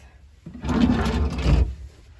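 A wooden drawer under a wardrobe in a 2004 Triple E Senator motorhome slides open and shut in one smooth rumbling motion lasting about a second, close by, with a quiet room before and after.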